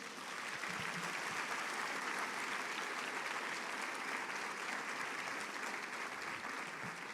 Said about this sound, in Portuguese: Você pode dar um forte aplauso a Jesus?